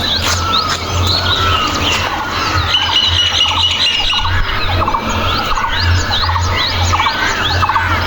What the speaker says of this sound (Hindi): चिड़िया